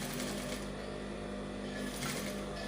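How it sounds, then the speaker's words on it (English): A sewing machine stitches the pieces of a shirt collar together along a curve with a continuous, dense mechanical hum that holds steady at a close, even level throughout. "then I'll sew."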